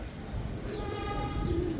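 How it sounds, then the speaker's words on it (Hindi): Soft, low cooing from Mulayam breed pigeons sounds close by, with a faint higher tone and a steady background hum. "ये बिल्कुल मुलायम कबूतर है।"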